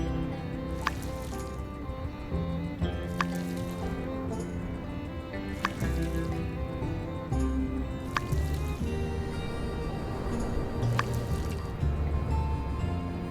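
Crops being watered in the video game My Time at Sandrock, with a run of short splashing pours at a regular rhythm, each a wet burst over steady background game music, and no talk.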